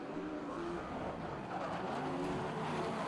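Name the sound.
midget race cars racing at speedway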